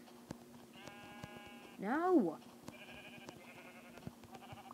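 Minecraft sheep bleat in the game, one wavering, clearly audible bleat at the centre with fainter tonal game sounds around it, while a person briefly exclaims in the background.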